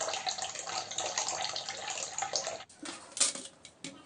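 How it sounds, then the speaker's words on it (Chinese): A watch case being scrubbed clean with water, laundry detergent and a soft toothbrush: running water splashes steadily at first, then breaks into short intermittent splashes and scrubbing sounds, fairly quiet and close, with no talking. "然后我们用清水加洗衣精以及这个软的牙刷把外壳和导电橡胶都清理一下"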